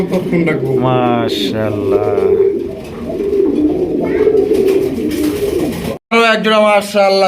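Raj Golla pigeons cooing with soft, repeated throaty coos under loud, close talking that runs almost the whole time, with a brief cutoff near the end.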